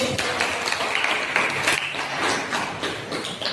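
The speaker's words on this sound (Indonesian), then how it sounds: "Beri aplaus dulu." A school class applauding after group presentations, a dense patter of many hands clapping at close range, loud and steady throughout with a few voices underneath.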